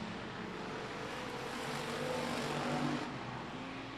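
Race cars in a feature race at I-37 Speedway, a dirt oval, roar steadily around the track on the final lap; dense engine drone from several cars at mid distance, swelling slightly as a pack passes near the end.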